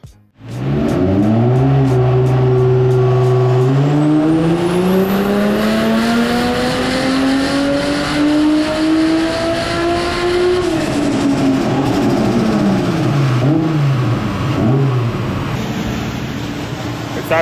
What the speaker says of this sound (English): absolutely blowing the tyres off it. That's the downside to a roller dyno